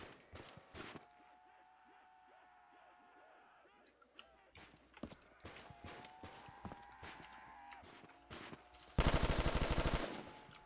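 Thompson submachine gun fire in Call of Duty: Black Ops 3 zombies, scattered shots and bursts, then a dense loud sustained volley near the end, with game effects throughout.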